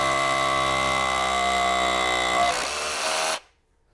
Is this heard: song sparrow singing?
no